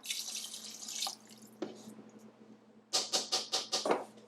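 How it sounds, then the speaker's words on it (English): Water splashing and trickling into a pot of crushed tomatoes and beans for chili in short bursts, ending in a quick series of rhythmic sloshing pours, close and fairly quiet. "I'm adding a cup of water"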